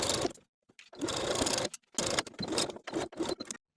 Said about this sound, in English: Top stitch along the binding close to the seam line just as we did for the armhole bindings